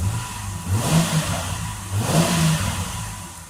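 Car engine revving up and down twice as the vehicle is accelerated during an OBD2 scanner test, a steady mid-pitched drone that swells and falls, close and fairly loud, with no talking.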